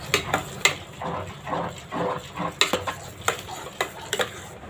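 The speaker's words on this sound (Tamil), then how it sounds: "நம்ம கைவிடாமல் கொஞ்சம் கிளறிட்டே இருக்கணும்" A thickening flour dough for a traditional sweet is stirred in a pan, giving irregular scraping and tapping strokes with a soft bubbling sizzle underneath, close and fairly quiet.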